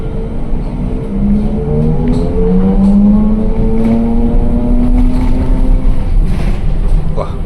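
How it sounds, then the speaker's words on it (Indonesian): A TransJakarta corridor 4D bus at night, its engine droning close and loud as it accelerates at speed, the rising whine climbing steadily through the gears under constant road rumble. "Berasa banget tuh ngebutnya, mesinnya."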